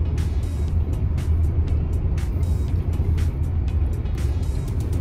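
A car rolls along a road in Villa Ernesto, an older residential subdivision, its steady low engine and tyre rumble filling the scene at close range with no break.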